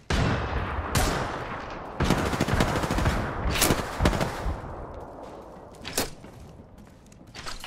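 Loud, rapid gunfire fills a round of the video game Apex Legends, with sustained automatic bursts broken by sharp louder shots and brief pauses, and no voices.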